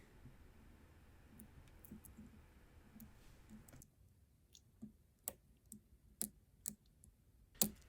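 Small sharp clicks from the pins of a Medeco M4 high-security lock being picked under light tension, a handful of faint isolated ticks in the second half of an otherwise quiet close-up.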